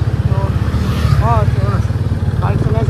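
A motorcycle engine rumbles steadily and close by while people talk over it.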